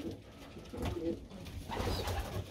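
Low, soft pigeon cooing murmurs in a row, fairly close, in a breeding loft, with a faint rustling room ambience and no talking.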